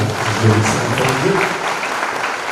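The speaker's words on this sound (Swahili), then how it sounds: "Tupige Bishop makofi." A church congregation claps together at the grand opening of a new sanctuary, a steady, dense applause filling the room with a few voices mixed in.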